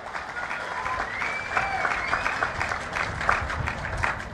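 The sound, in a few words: crowd applause for Swachh Andhra volunteers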